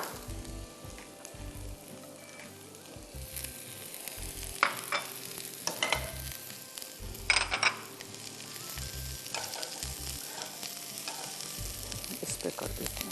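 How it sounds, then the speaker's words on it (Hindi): Chopped onions and capsicum sauté in a little oil for a chicken peanut soup, giving a steady loud sizzle throughout, with intermittent stirring scrapes and a couple of brief metallic clinks, without talk. "कम तेल लीजिएगा, ठीक है, सूप सालन नहीं बना रहे हैं हम, सूप बना रहे हैं, इसको बस हमें सौते करना है।"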